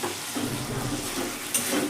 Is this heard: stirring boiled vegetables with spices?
yes